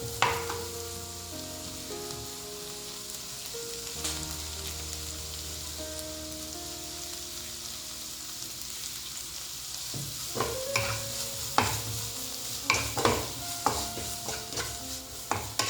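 Onions fry with a pinch of salt in a pan for paneer butter masala, giving a steady, low sizzle. Scraping and stirring noises grow busier toward the end.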